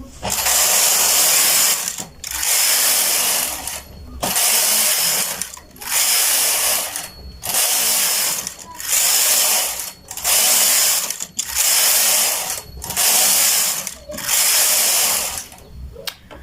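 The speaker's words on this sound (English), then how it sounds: "So you guys can see my machine is really knitting." Knitting machine carriage sweeping back and forth across rows, a loud rattling mechanical whir in steady passes of about a second and a half each, separated by brief pauses at the turns, with no talking.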